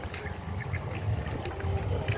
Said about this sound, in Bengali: হাঁসগুলোকে দেখ আরে হাঁসগুলোকে দেখ